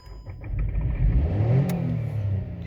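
A 2010 Volkswagen Polo MK5 engine is revved while parked with the handbrake on, rising to a loud sustained roar close by before easing slightly.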